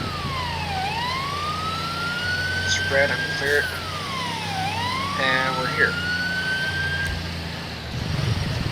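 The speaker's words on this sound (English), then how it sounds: "So I'll turn my siren back on" An emergency vehicle siren wails in FiveM roleplay, two long rising-and-falling sweeps cycling steadily over engine rumble while someone talks over it.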